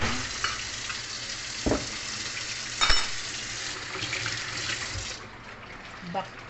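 Beef for Filipino beefsteak sizzling and frying in a pan, a steady close hiss with a few stirring knocks, fading slightly toward the end.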